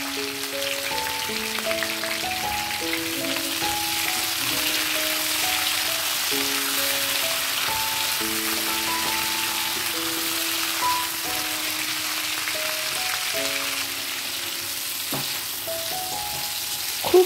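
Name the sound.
pointed gourd pieces frying with turmeric and salt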